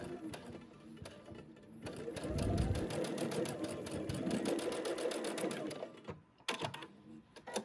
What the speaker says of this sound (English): just again sew that straight quarter inch seam